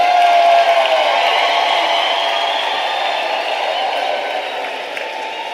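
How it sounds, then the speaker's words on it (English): Sustained audience applause at a university autumn graduation ceremony, a broad wash of clapping that stays fairly loud and steady before easing slightly toward the end, with no speech over it. "Can we give them another big round of applause"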